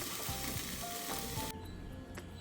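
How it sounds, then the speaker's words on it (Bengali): Vegetable stalks with salt and turmeric simmer in a covered pan, giving a steady close sizzle with soft bubbling and a faint metallic clink partway through, with no voices. "এটাকে ঢাকা দিয়ে আমি ভালো করে সেদ্ধ করে নেব"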